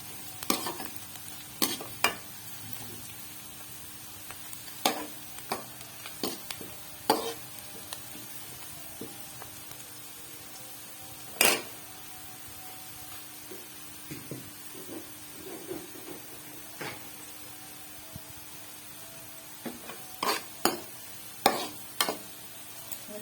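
Chopped onions fry gently for a fish curry, a soft low sizzle under intermittent sharp clinks and scrapes of a spoon against the pan, spaced irregularly and heard close without speech.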